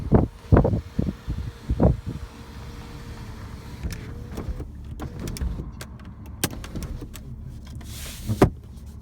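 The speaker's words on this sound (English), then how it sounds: "Electric sunroof. One touch control." One-touch electric sunroof on a 2001 Mercedes W220 S320 CDI running inside the cabin: a few clicks and thumps open the clip, then a low, steady motor whir hums for several seconds before ending with a soft clunk.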